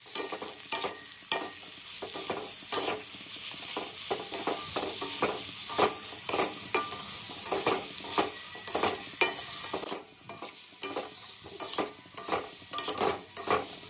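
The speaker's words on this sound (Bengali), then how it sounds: "ধনে গুঁড়ি, গোলমরিচ গুঁড়ি, হলুদ, লবণ, এটা ভালোভাবে কষাবো।" Momo filling with coriander powder, pepper, turmeric and salt is sautéed in a pan, a soft continuous sizzle broken by repeated scraping strokes of a spatula, close and steady with no talking.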